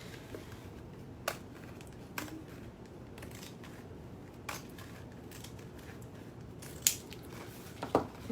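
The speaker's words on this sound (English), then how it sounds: "So just you probably don't need to use pinking shears," Pinking shears cut through thick fabric at close range during a sewing session: a handful of faint, crisp snips at irregular intervals over a quiet background.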